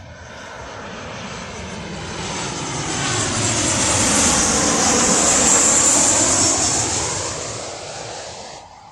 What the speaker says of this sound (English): Oh, we've got a plane landing. Let's take a look what it is. Is it a 737?